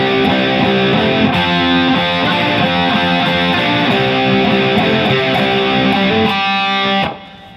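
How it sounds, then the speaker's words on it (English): Distorted electric guitar plays a hammer-on and pull-off riff slowly, dense and loud with ringing overdriven notes, stopping abruptly near the end. "I'm going to play slowly up to the hammer and pull-off riff on measure 8."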